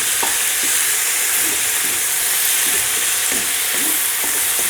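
Chicken fried rice sizzles steadily in a hot pan while ingredients are stirred through it, with a continuous close frying hiss and occasional scraping stir strokes.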